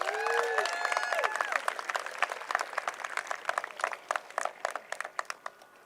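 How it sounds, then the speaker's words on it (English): Graduation audience applause for the admin team at an outdoor high school ceremony, a broad wash of clapping and cheering that thins into scattered individual claps, with voices mixed in. "Please give them a round of applause"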